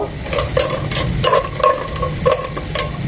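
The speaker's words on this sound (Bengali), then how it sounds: "দিয়ে দিব কাজু বাদাম। বাদামগুলো একটু ভেজে নেব" Cashew nuts fry in hot oil mixed with a spoon of ghee, giving a steady close sizzle broken by soft scraping stirs at a fairly even rhythm.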